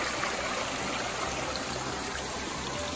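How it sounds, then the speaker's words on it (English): An ice cold mountain stream rushes steadily beside a trail shelter north of Albert Mountain on the Appalachian Trail, a close, constant wash of flowing water with no voices. "perfect ice cold stream for our water source at our shelter tonight."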